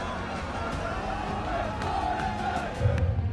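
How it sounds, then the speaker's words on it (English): Stadium crowd at a Danish Counter-Strike (CS:GO) esports event roaring steadily throughout, a continuous dense wash of cheering and shouting that swells slightly louder near the end. "the roar of the crowd is firing through the stadium"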